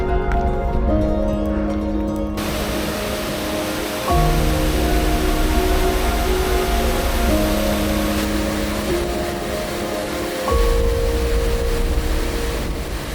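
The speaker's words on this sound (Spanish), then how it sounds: "cae bastante agua, muy chula. Y son varios saltos de agua" A multi-tiered waterfall in New Zealand pours heavily, a constant broadband roar heard from nearby, with sustained musical tones layered over the rushing water.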